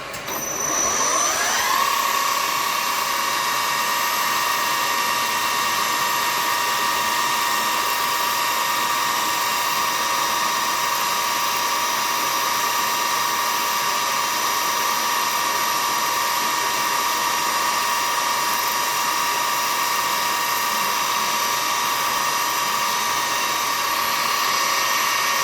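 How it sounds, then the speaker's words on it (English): A 4mm bit drills through metal, its high, steady whine rising quickly at the start and then holding loud and constant for the rest of the stretch with no talking. "Now drilling 4mm."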